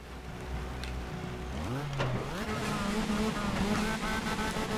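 A Mitsubishi Evo 5 in the racing game TOCA Race Driver 3 launches at full throttle, the engine note climbing, dropping at a gear change and climbing again, loud and close with the sound of other cars around it.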